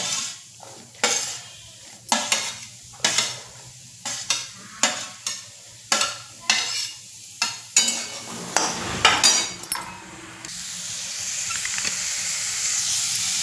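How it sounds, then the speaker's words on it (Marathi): Onion frying in hot oil in a wok, with repeated sharp clanks of a spatula stirring against the pan, followed by a steady loud sizzle and hiss near the end; no talking. "कढई गरम झाली त्यात आता कांदा टाकून घेते."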